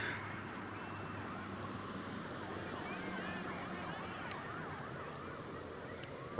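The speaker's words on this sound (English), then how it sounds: "I actually hear sirens" Wailing sirens rise and fall far off in Brawley under a steady, dense background hum, with no one talking.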